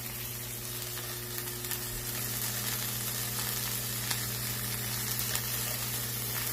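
Tuna steaks sear in a pan on a stove set at 7, a continuous bright sizzle and crackle close by with a steady low hum beneath, no voices.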